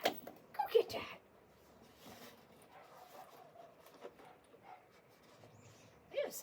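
A dog barks from indoors, muffled and fairly faint, a few short bursts near the start and again at the end, heard while someone outside plays with a dog named Maggie.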